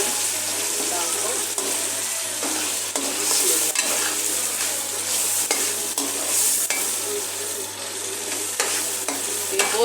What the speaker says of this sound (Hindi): इसमें फ्राई करेंगे मसाले में दाल को